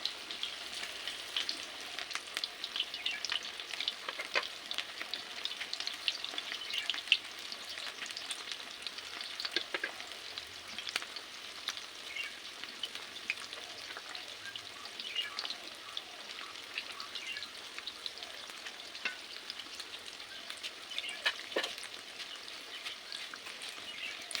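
Cauliflower pieces for chilli gobi fry steadily in hot oil, a continuous crackling sizzle with fine popping, fairly close and even in level throughout, with no one talking over it.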